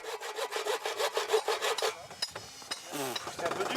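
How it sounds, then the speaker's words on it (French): Hand saw cutting through wood at a children's holiday camp. Steady rhythmic back-and-forth strokes are loud and close for about two seconds, then stop, followed by a few softer scrapes and rustles. "ça fatigue énormément la scie"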